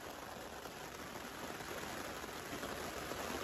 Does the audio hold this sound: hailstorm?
yes